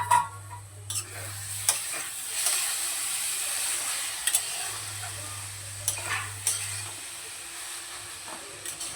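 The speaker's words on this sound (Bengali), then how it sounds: "ঢাকাটাকে সরিয়ে আবার একটু নেড়ে চেড়ে দেবো।" Vegetables for a Bengali vegetarian ghonto, including radish, are stirred in a pan with scraping and clinks of the spatula over a steady frying hiss and sizzle. A low hum runs underneath, with no talk.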